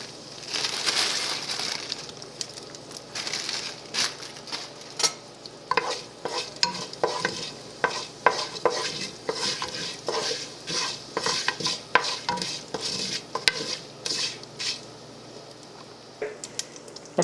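Hing and curry leaves frying in hot oil for a brinjal curry: a steady, close crackling sizzle broken by frequent sharp pops and spatters, with no voices.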